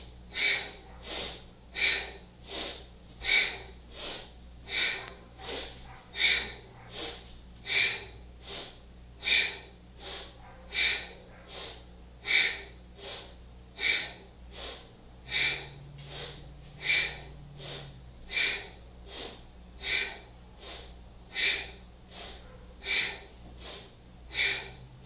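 Fast, steady yoga breathing during a psoas, hip and low back session, with sharp inhales and exhales alternating in an even rhythm of about one breath per second, close and continuous throughout.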